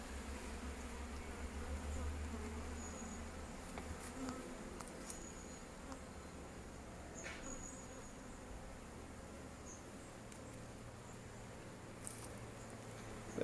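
Honeybees at an open hive during an inspection make a soft, steady buzzing that hums on throughout, with a few individual bees droning past close by.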